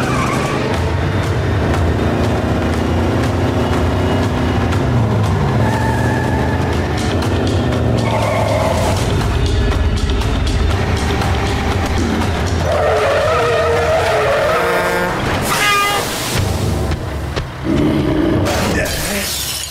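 A tanker truck skids through a cartoon chase scene, with loud screeching tires, engine roar and a crash or shatter near the end over a dense, busy action soundtrack.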